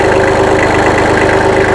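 A Kubota L225 compact tractor engine idles at low RPM, a loud, steady, even chug with a regular low throb throughout and no talking.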